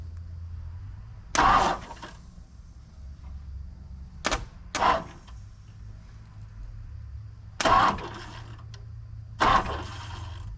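A 1959 Ford Thunderbird V8, parked for 33 years, is turned over in short bursts of mechanical cranking, five brief grinding pulses separated by pauses of near silence.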